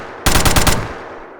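A submachine gun fires a quick, loud burst of about five rapid shots in a horror first-person shooter game, and the sound trails off into a short decay.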